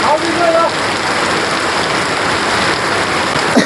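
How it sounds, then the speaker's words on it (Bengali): Heavy morning rain pours down in a dense, loud, constant roar of drops hitting surfaces close by. "বৃষ্টি এমন দ্রুত নামছে"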